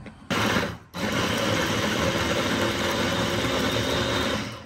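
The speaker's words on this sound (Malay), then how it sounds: "Kita blender lah kiranya bang sebab kita bubuh air." A blender chops turmeric with water while fish gulai lemak is being made, starting after a brief pause as a loud, steady motor whir that dips once and then runs evenly to the end.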